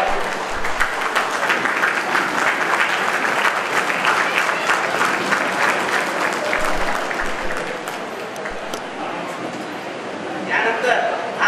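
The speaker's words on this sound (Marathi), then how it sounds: "एकदा आपण उभारून टाळ्या वाजवू त्यांच्यासाठी" Audience at a community awards and felicitation ceremony in Solapur rises for a standing ovation, dense continuous clapping filling the hall for several seconds and fading slightly before a brief final swell.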